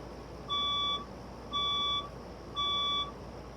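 A building fire alarm test sounds three evenly spaced electronic beeps, each about half a second long, with one-second gaps between them, clear over a quiet background.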